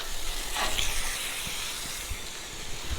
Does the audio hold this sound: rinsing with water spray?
yes